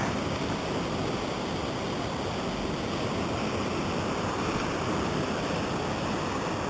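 A forest creek pours steadily near a waterfall, its broadband rushing hiss constant and fairly close, with no pauses or voices over the seven seconds.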